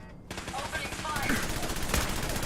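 A turret's machine gun opening fire in Fallout 4: sudden, loud rapid bursts of automatic fire, dense and continuous, with a voice speaking briefly amid the shooting.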